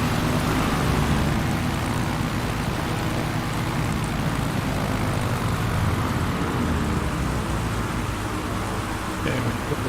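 The propeller engine of a Savage Carbon taildragger plane in a flight simulator game makes a loud, steady broadband drone that fills the whole stretch without a break, and nobody talks over it.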